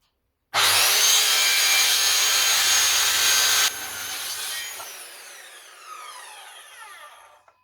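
A Ryobi power saw tears loudly through material for about three seconds, then the blade keeps spinning freely, its whine slowly fading and dropping in pitch over the next several seconds.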